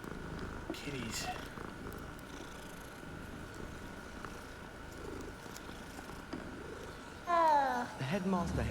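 A cat purrs in the Hogwarts Legacy video game, a soft steady rumble beneath scattered voices and a brief louder vocal burst near the end.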